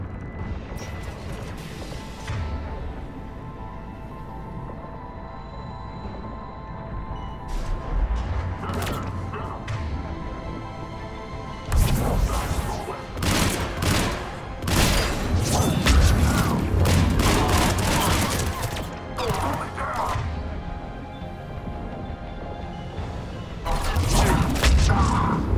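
Heavy cannons firing during the Omega invasion in Mass Effect 3 Legendary Edition: irregular deep booms and crashing impacts over a mechanical rumble, with louder bursts clustered toward the middle and end.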